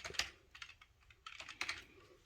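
A code being typed on a computer keyboard: quiet, close key clicks in small irregular clusters, soft and alone.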